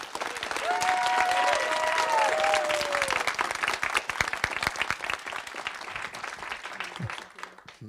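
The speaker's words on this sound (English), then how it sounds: "Can we please give a loud applause for all of our sister cities?" Crowd applause at a Sister Cities annual meeting, a full round of clapping that swells, then thins into scattered claps and fades, with a voice briefly heard over it.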